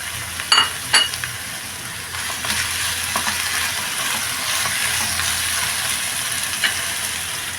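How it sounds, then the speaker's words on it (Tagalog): Mushrooms stirred into a hot frying pan, a steady sizzle with a couple of sharp utensil clinks against the pan near the start and another later, close and clear with no talking. "Ihahalo ko na yung mushroom."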